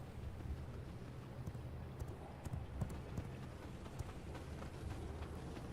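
Horse hooves clip-clop at a steady walking pace in the V Rising video game, low and fairly quiet against a constant wind-like rumble, with no talk.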